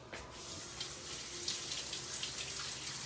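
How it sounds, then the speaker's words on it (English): Tap water runs steadily into a kitchen sink as someone rinses messy hands after slicing avocado for a Cobb salad, a continuous close hiss with no talk. "And now I have messy hands. Let me rinse."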